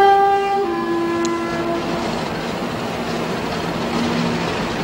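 A passing train rumbles steadily, opening with a sustained multi-tone horn blast that fades after about a second, then continuous rolling rail noise with a faint clatter; no voices.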